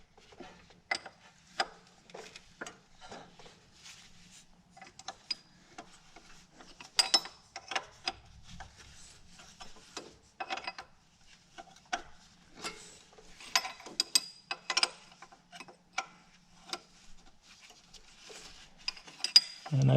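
Ratchet clicks in quick, faint bursts as pump mounting bolts are tightened on a Bobcat 331 skid steer, with scattered metallic taps and handling noises between strokes.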